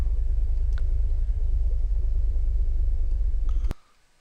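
A car engine in the game Unturned rumbles steadily at low pitch as the vehicle pulls into a garage, holding a constant drone before cutting off abruptly near the end, with no voices.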